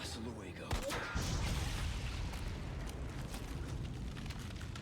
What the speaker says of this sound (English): Was that the stock, like, fire, like, explosion sound effect that's been in games forever?